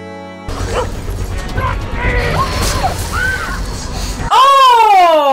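A dog in a scene from the film Planet Terror yips and barks a few times amid loud action and crashing noises, followed by a sweeping tonal sound at the end.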